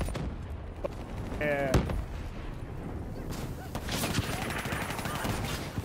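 Gunfire in the Black Ops 3 video game crackles in scattered bursts and sharp single shots, loud and close, with a player's voice talking over the shooting.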